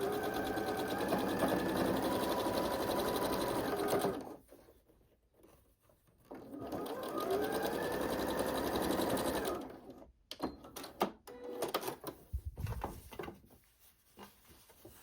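Sewing machine stitching quilt fabric seams on solids for a sawtooth star block, a close, steady rapid whirring hum in two long runs separated by a pause, followed by short handling noises.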